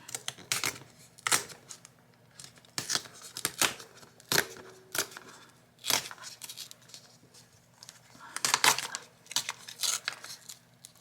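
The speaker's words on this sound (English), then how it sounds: "I'm going to tear off some here." Paper is torn by hand for a junk journal, a series of sharp, close ripping bursts at irregular intervals with quieter rustling between them and no talking.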